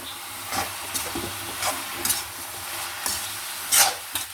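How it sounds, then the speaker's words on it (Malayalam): Raw banana frying in a pan is stirred with a steady background sizzle, while a utensil scrapes through it in repeated soft strokes close by. "നമുക്ക് മൂടി തുറന്നൊന്ന് ഇളക്കി കൊടുക്കുക."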